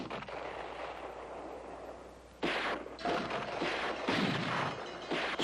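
Artillery piece firing in a mountain setting, heavy booming blasts, one around the middle followed by further rumbling reports and echoes, loud and close with no speech.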